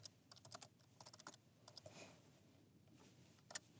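Light typing on a computer keyboard, with quick irregular clusters of soft key taps close by and a sharper single click near the end, over a quiet room.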